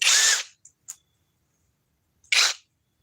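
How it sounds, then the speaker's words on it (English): A Flex compact 24-volt hammer drill with stacked lithium battery runs in two short, loud, whirring bursts, each under a second, separated by a couple of small clicks and silence. "I'd say we give this to the compact flex hammer drill"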